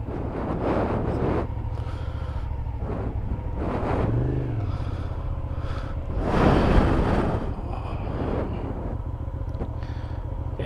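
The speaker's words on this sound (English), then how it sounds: "Thought it was time for a review on the GT650R, the bike I'm on." A 2013 Hyosung GT650R sport motorcycle hums along in a steady, close engine drone under heavy wind buffeting, swelling briefly as it pulls harder midway through.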